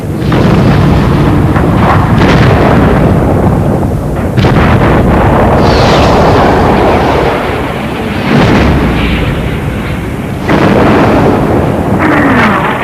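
Heavy strategic bombing explosions roar in a loud, continuous wash, with several deep booms rising and falling over a constant rumbling, wind-like roar.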